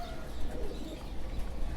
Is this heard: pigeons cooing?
yes